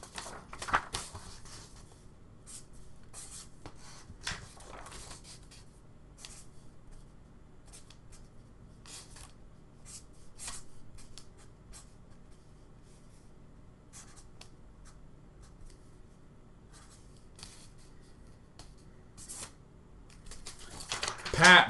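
Ink pen scratching across a sheet of paper, lettering in bursts of short strokes separated by pauses, close and faint, ending with a louder rustle of paper.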